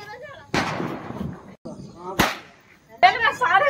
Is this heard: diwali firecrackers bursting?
yes